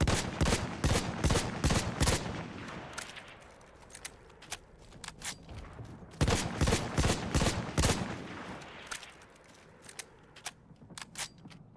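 A weapon fires in a shooter game: loud close bursts of rapid shots come in two clusters with scattered single shots between them, and each volley fades into a short echo.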